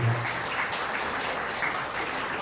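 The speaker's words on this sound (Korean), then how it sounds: "우리 박영훈 선생님께 다시 한번 큰 박수 해주시기 바라겠습니다" Wedding guests clap steadily for a speaker in a banquet hall at a Yeongdeungpo convention wedding venue, a dense, even patter filling the whole stretch, with a brief voice at the very start.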